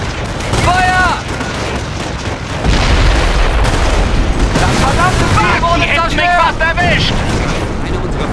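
Gunfire and explosions in the Company of Heroes Normandy invasion game, loud booms and rattling automatic fire under shouted soldier voices and whistling sounds, dense and continuous.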